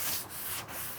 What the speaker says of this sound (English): I'm going to take a very fine sanding sponge and I'm just going to give this a really light sand.